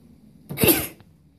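One sudden sneeze, close and fairly loud, a sharp burst of about half a second that stands alone in an otherwise quiet room.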